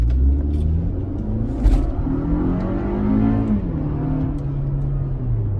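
Toyota Camry SE accelerating on the road with a Pedal Commander throttle controller set to Sport Plus, a steady loud engine rumble with rising revs and a gear-change dip midway, no talk.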